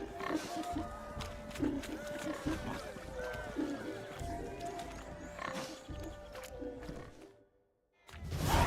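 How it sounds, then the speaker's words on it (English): Pig squeals and grunts from a chase in The Witcher 3: Hearts of Stone, with busy game audio and hoofbeat-like thuds under game speech, dropping briefly to near silence before returning loud. "I'll show these imbeciles how one chases a porker."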